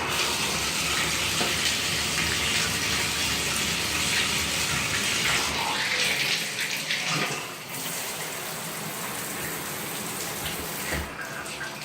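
Water gushes steadily from a slightly loose bathtub spout into a grungy tub, a loud continuous rush that shifts and softens briefly partway through, with no talking over it.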